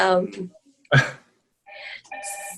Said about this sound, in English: my phone just started ringing